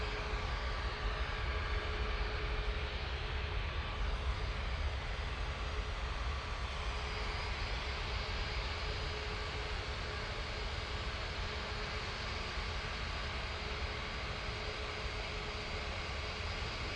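Jet2 Airbus A321neo airliner taking off from Manchester Airport, a steady broadband engine roar held at a constant level throughout, fairly distant with no voices.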